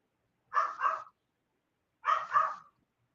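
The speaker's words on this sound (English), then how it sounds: "Oh well, she's gonna bark." Dog indoors giving two short double barks, a pair near the start and another after a pause, close and clear against silence.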